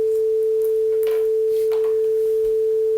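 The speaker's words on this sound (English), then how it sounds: "now when you've heard the sine wave, you can stop the project" A pure, steady sine tone from the Bela sine generator project holds unbroken at one pitch throughout, loud and constant, with faint clicks and rustles in the background.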